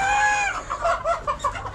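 Chickens on a poultry farm, several hens clucking and squawking close by in quick broken bursts after an opening drawn-out call.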